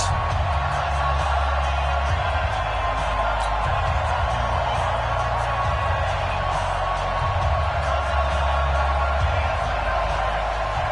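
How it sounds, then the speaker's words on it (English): Stadium crowd cheering in a football video game before a Houston Texans matchup, a steady broad roar of the crowd with a low rumble beneath, continuous throughout, with a voice speaking at times. "This crowd is ready as their guys get set to match up between our visitors and the Houston Texans."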